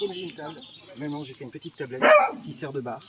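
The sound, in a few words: dog barking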